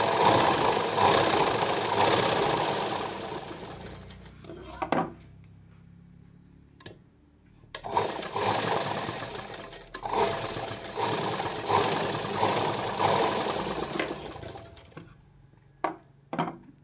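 A sewing machine stitches the joint on the sleeve of a silk blouse, running in two long continuous bursts with a brief pause and a few short clicks between them. No one speaks.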